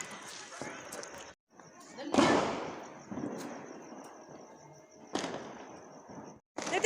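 Diwali firecrackers and sparklers going off nearby, sharp crackling bursts and fizzing spurts in uneven clusters, with people talking throughout.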